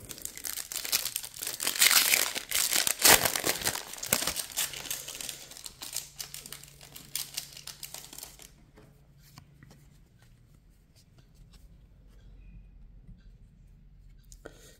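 Opening a foil Magic: The Gathering Secret Lair card pack: loud, close crinkling and tearing of the foil wrapper and shuffling of cards for several seconds, then it goes quiet with faint handling.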